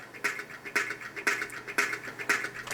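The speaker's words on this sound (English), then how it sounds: "It's some sort of maraca thing going on, I think." Rhythmic shaken rattle like a maraca, bursts of bright hissy noise repeating about twice per second in a steady pattern, moderately loud with no voices.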